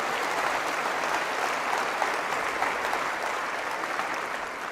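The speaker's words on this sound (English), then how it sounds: "Got a round of applause." A round of audience applause, a steady, dense crowd clapping that holds at an even level and tapers slightly toward the end.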